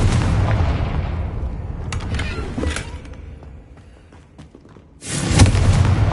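A Confringo blasting spell explodes in the Hogwarts Legacy video game, a loud booming burst that fades into creaking rumble before a second heavy blast erupts near the end.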